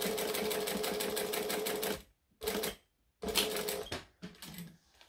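A sewing machine stitches a laptop case in a fast, steady whirring run of needle strokes, then stops and restarts in two shorter bursts with pauses between, close and alone.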